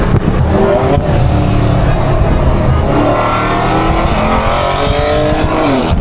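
A Dodge Hellcat accelerates on city roads in traffic, its engine roaring loud and close with a rising, layered whine that climbs through gears and dips briefly before building again, no talk over it.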